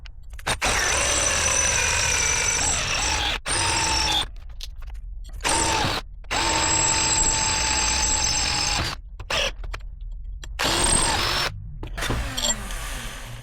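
A power tool enlarges bolt holes for mounting a rev counter, whining loudly and steadily in close, sustained runs that cut off briefly several times and then resume.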